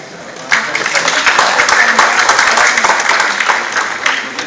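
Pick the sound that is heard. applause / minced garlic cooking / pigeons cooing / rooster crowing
applause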